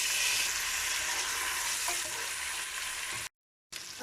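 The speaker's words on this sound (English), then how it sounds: "I have let the tomato cook a bit with the onion and the red chili" Tomato sizzling in a pan with onion and red chili, a steady close broadband fry crackle with faint stirring, broken by a brief dropout near the end.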